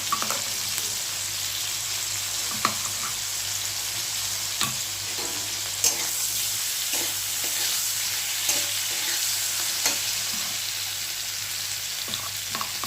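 Spice paste sautéing with mixed vegetables in a pan for a vegetarian dish: a steady close sizzle punctuated by repeated spoon scrapes and knocks against the pan, with no speech.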